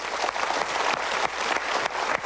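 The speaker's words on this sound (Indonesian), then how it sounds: "Kita berikan tepuk tangan untuk mereka." A studio audience at a television talk show applauds, a dense, steady clatter of many hands clapping close by for a couple of seconds.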